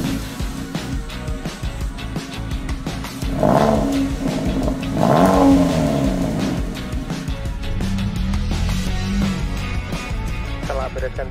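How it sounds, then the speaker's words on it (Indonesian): Suzuki Ertiga accelerating along the Trans-Sumatra highway after an oil change with Top 1 oil, engine rising and falling in two revving surges over steady road noise, with voices talking throughout. "kita langsung coba tancap gas di jalan lintas Sumatera"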